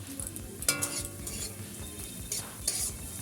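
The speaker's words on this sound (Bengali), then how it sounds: "পেঁয়াজ রসুন একসঙ্গে ভাজবো।" Onion and garlic sizzle softly in hot oil in a wok while a utensil stirs and scrapes, with a few sharp metallic clinks against the pan.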